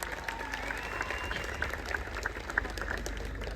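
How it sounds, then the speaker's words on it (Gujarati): A crowd at an Aam Aadmi Party gathering in Rajpipla claps steadily to welcome newly chosen district panchayat leaders, a dense, even patter of applause heard from a moderate distance. "એમને તાળીઓથી આપણે વધાવી લેવાના છે"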